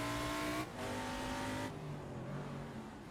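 McLaren M8C race car, a 1,400-pound machine, driven at Laguna Seca in a VR racing game, its engine droning steadily on throttle with a brief dip partway through, loud and close with no talk.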